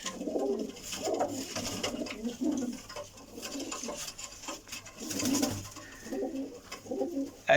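Pigeons coo repeatedly in soft, rolling bursts, several birds overlapping at close range with steady background noise.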